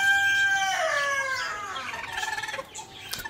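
Chickens clucking and crowing in a rural village coop where hens have gone broody, with loud nearby calls, a rooster-like crow early on, then choppier clucks toward the end, no voices.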